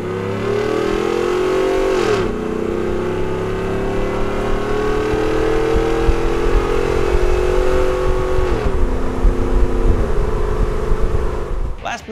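Ford F150 fitted with an S-Type cat-back exhaust revs loudly and close, its engine note climbing, dipping around two seconds, then building again into a sustained throaty roar that drops off near the end.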